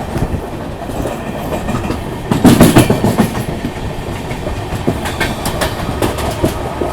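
Mumbai Howrah Duronto Express rolling along the line, heard loud and close with steady rumble and rhythmic clickety-clack of wheels over rail joints throughout.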